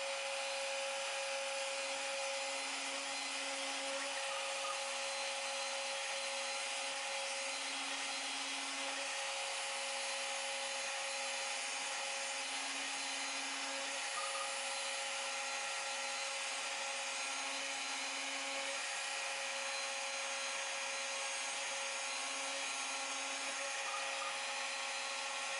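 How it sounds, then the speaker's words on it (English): A CNC router cuts hinge and support-arm mortises into a rosewood box, giving a faint, steady whine with a low hum beneath and short rising bursts that recur every couple of seconds. "Tool paths were created to cut both the hinge mortise and support arm mortises"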